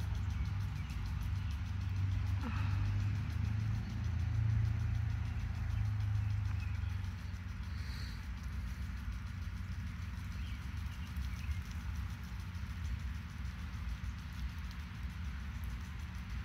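An old Skinner S710 3/4-inch dual-nozzle brass impact sprinkler turns slowly through a full circle, its faint rhythmic ticking and spray patter running steadily over a soft outdoor hum.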